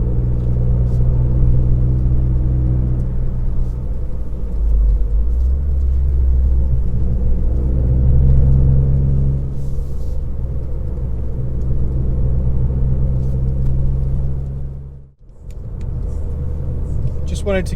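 Ford Fiesta ST Mk8 with a 1.5 litre turbocharged three-cylinder engine pulling uphill, a steady loud low drone of engine and road rumble heard from inside the car, briefly dipping near the end, with occasional talk.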